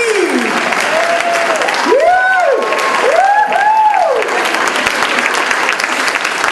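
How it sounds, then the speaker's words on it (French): Applause and some cheering from a stage-show audience for a performer, a loud continuous wash of clapping, with rising and falling whistle-like tones sweeping over it. "On applaudit Cathy!"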